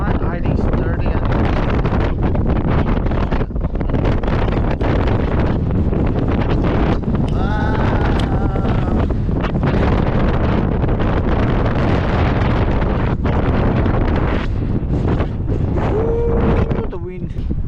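Strong wind buffeting a microphone outdoors during rope-access abseiling on a windy day, a loud continuous roar with heavy rumbling gusts throughout, and people speaking faintly beneath it.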